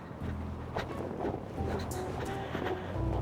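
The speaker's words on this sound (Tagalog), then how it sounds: "Lakas ng hangin." Steady wind buffeting a microphone with low rumbling gusts on a cold walk in Canada, while a person talks intermittently nearby.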